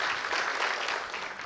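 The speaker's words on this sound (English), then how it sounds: "So round of applause." An audience at a startup pitch competition applauds in a steady wash of clapping that fills the room, brief and moderately loud, with no talk.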